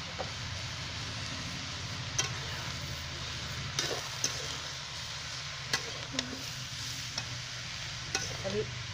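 Salt, cumin-coriander powder and red chili powder being stirred into bottle gourd sabji, with a steady low sizzle and light intermittent spoon scrapes and taps against the pan.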